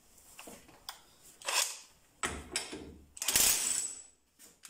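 A Parkside cordless 1/2-inch impact wrench from Lidl works at loosening a bolt, giving several short bursts of whirring, rattling mechanism noise separated by brief pauses, close and fairly loud.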